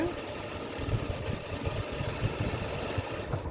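A sewing machine stitches fabric in a fast, even mechanical rattle that runs throughout, close and moderately loud, with a person talking over it.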